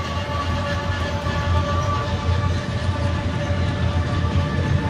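Continuous low rumble and hum of a moving train heard from on board during a ride, steady and fairly loud with faint tonal whine, no talking.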